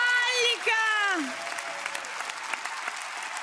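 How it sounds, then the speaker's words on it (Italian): Audience applause builds into a standing ovation after a singer's performance on Italy's Got Talent, a steady wash of clapping that follows a sustained sung note and continues alone at even strength. "peccati l'applauso, meritatissimo, e questa standing ovation"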